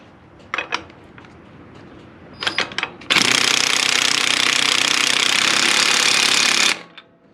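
An impact wrench with a 22mm socket tightens a nut on a Kubota L-Series tractor's 3-point hitch. A few short clinks come first, then a loud continuous hammering burst of about three and a half seconds that stops abruptly.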